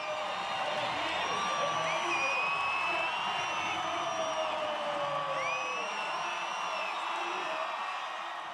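A large crowd roars and cheers at a 2014 X Fighters freestyle motocross event in Mexico, a dense, steady wall of shouting, whoops and high whistles that stays loud and unbroken from start to finish, with no single clear voice.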